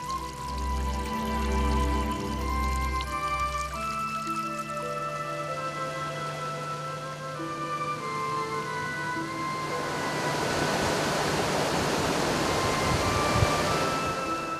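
A fast-flowing mountain stream at the source of the Logawa River on the slopes of Mount Slamet rushes in a steady broad wash, swelling louder toward the end, with a low tonal hum early on.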